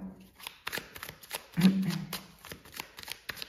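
Tarot cards being shuffled and drawn during a card reading, a close run of crisp paper rustles and soft flicks with a fuller riffle in the middle.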